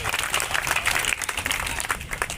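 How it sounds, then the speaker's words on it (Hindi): A crowd applauding at the unveiling of a Maharana Pratap statue on Rajgarh Road in Biaora, dense sustained clapping filling the whole stretch at fairly loud level with no talk over it. "एक बार हम इन सब साथियों के लिए ताली बजाकर उनका उत्साहवर्धन करें"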